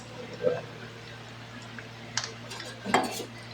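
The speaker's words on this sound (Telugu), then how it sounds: "ఇప్పుడు ఒకసారి మనం కలుపుకోవాలి ఫ్రెండ్స్" Chicken kadai being stirred in a pot, three brief metallic scrapes and clinks of a utensil against the vessel over a low steady hum, fairly close and quiet.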